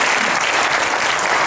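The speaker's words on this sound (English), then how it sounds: "you can applaud that" Audience at a world strings workshop, after a harp and cuatro piece, gives a brief burst of dense, even applause that fills the room, with no talk over it.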